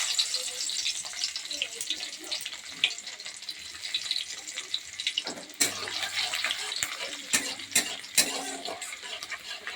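Crushed garlic drops into hot oil with whole spices in a pan, producing a steady, close hissing sizzle with occasional sharp crackles and utensil clatters.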